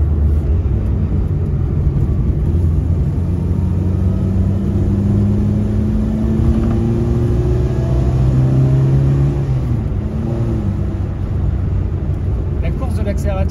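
A 1979 Peugeot 104 ZS2 engine accelerates at full throttle, heard from inside the car as a loud, steady drone whose pitch climbs gradually, with someone talking over it.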